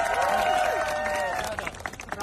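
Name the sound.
volunteers applauding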